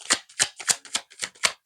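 Tarot cards being shuffled in quick bursts, about seven crisp riffling strokes in under two seconds, close and fairly loud with no talking.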